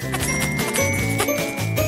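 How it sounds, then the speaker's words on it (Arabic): A bell rings out from inside a wall, coming through as bright jingling dings layered over continuous music, fairly loud and steady for about two seconds. "من أين أتى هذا الجرس من الحائط؟"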